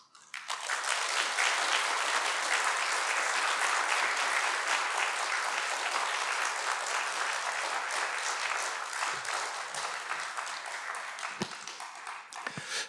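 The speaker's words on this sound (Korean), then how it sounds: "큰 박수로 환영하겠습니다" Audience applause in a church welcoming a guest speaker to the front, a dense, steady wash of clapping from a large crowd that holds strong for the whole stretch and thins only slightly near the end.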